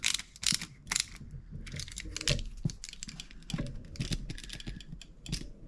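A Phillips screwdriver tightens the terminal screws on a household light switch, making close, irregular small clicks, scrapes and ratcheting ticks as the screws are turned down snug.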